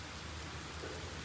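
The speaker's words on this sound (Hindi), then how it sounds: "ये देखो यार कितनी तेज बारिश हो रही है" Heavy rain pouring down outdoors in Islamabad, a dense, steady hiss of falling water with a faint low rumble beneath, continuous and loud throughout, with no voices.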